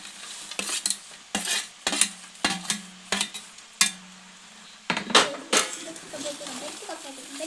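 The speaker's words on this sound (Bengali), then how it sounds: "দিয়ে এটিকে মিশিয়ে নিচ্ছি ভালো করে আস্তে আস্তে ঘর মিশিয়ে নিচ্ছি" Spoon stirring fried cashews and raisins into orange rice in a pot, giving about eight to ten distinct scraping clinks in an uneven rhythm, close and fairly loud, with a soft sizzle between strokes.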